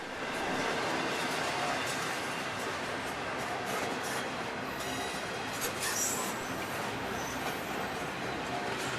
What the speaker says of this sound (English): And here comes the end of the train.